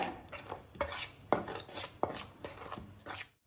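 Spoon scraping and clinking in a bowl while semolina, rice flour and cardamom powder are stirred together for sweet appam batter, close and irregular, with repeated sharp taps among soft rubbing strokes and no talk.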